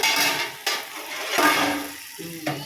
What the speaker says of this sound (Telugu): ఒక్కసారి ఫైనల్గా కూర ఒక్కసారి తిప్పేద్దాము